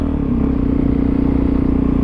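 A 2016 Suzuki DRZ400SM single-cylinder motorcycle engine runs loud and steady at high revs, a close, throbbing rumble with no clear clutch pop or surge.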